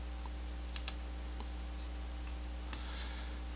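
A computer mouse clicks a few times at a desk, short sharp ticks spaced irregularly against a steady electrical hum, with no one speaking.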